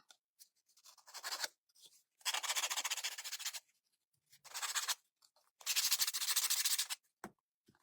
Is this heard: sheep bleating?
no